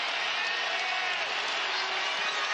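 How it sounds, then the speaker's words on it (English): Basketball arena crowd roaring steadily during a Texas Tech Red Raiders home game against Kansas State, a dense, continuous wash of cheering that stays loud and even throughout, with no distinct voices standing out. "The roar of the crowd comes again as the Red Raiders D up"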